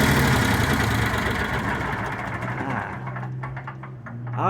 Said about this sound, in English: That's pretty quiet because it's a low speed belt drive.